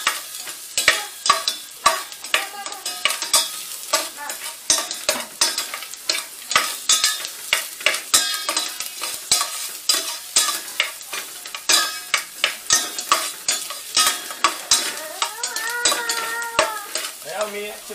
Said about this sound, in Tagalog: Kailangan natin mag-brown ng bawang.